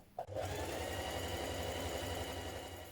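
A sewing machine runs steadily, stitching two rows of gathering stitches on fabric, with a brief click at the start and then a continuous fast, even mechanical whir close by.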